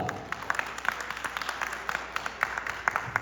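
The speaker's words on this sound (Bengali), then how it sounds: "তাদের জন্য জোরে দুটি হাততালি আশা করব" An audience at a Victory Day celebration claps in a sparse, uneven patter of separate hand claps, light and somewhat distant, with faint room murmur beneath.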